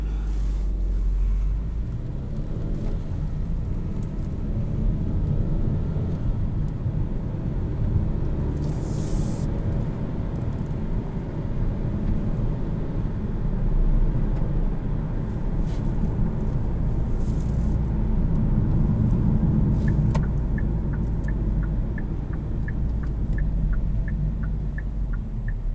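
A 2019 Hyundai Kona with a 1.6-liter turbocharged four-cylinder drives along, its steady low engine and road rumble filling the cabin continuously with no voices.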